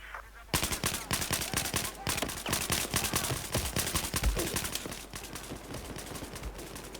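AWS automatic rifle fire in Battlefield 4, loud rapid bursts of closely spaced shots that run almost without pause and thin slightly toward the end, with faint talk beneath.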